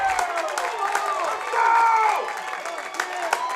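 A Trinity Academy home crowd at a state high school baseball quarterfinal cheers and applauds after an RBI triple, a sustained roar swelling in the middle with scattered whoops and claps.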